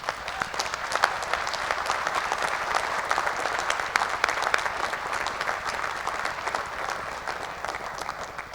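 Graduates applauding their families at a medical school graduation ceremony, sustained dense clapping from a large crowd filling the hall without pause.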